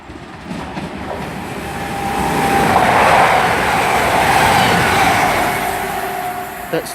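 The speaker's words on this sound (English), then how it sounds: "passing through now is a service from Manchester Piccadilly" A passenger train, a Manchester Piccadilly to Bristol Temple Meads service unit 220.032, passes through Barnt Green station as a rushing roar that builds over a couple of seconds and holds steady, with a faint voice in the background.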